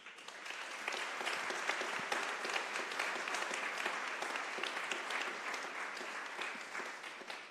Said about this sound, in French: Ce sont vos 3 invités, vous pouvez les applaudir.